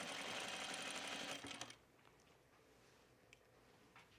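A sewing machine runs steadily along a quarter-inch seam in slinky rayon for about a second and a half, then stops, leaving faint room noise and small clicks.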